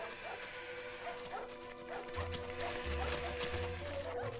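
Dogs in the Up: The Game video game let out a few short yips and barks over a soft background game score.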